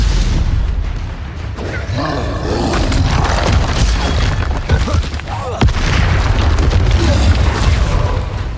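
Spellcasting combat in the video game Hogwarts Legacy, with a Stupefy spell among loud booming magical blasts, roaring whooshes and impacts layered over one another, and a voice shouting amid the noise.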